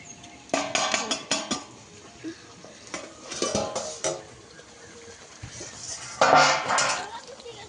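A metal lid comes off a pot of steamed magur and singi fish, with several sharp clanks and scrapes of metal cookware in short bursts close by.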